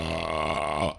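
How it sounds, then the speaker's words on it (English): A man lets out one long, loud, resonant belch close to the microphone that rumbles for about a second before cutting off abruptly. "now you assholes are making me belch, man"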